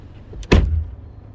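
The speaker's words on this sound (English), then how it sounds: "Slamming the car door on my dad and boyfriend." A single car door slams shut with a sharp thud, preceded by a brief click, then a quiet low rumble.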